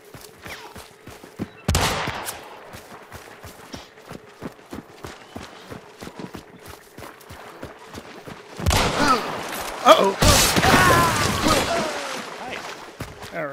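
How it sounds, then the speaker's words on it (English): Gunfire in the video game Hunt: Showdown: scattered shots with one loud crack early, then a dense burst of heavy firing later, alongside footsteps, with players talking throughout. "I know, I'm shooting at him."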